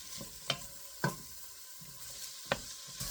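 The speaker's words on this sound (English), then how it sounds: "you need 1 to 2 tablespoons of olive oil in a big pot. And once it's up to temperature, add your vegetables" Vegetables sautéing in hot olive oil in a big pot give a soft, steady sizzle, broken by a few sharp clinks and scrapes of a spoon stirring at intervals, close by and with no talk.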